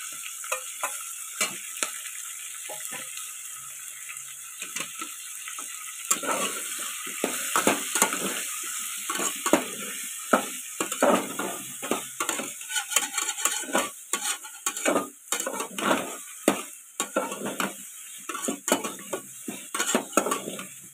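Masala rice with tomato and peas being stirred in a pan: irregular scraping and clinking strokes over a soft, continuous sizzle, growing busier toward the end.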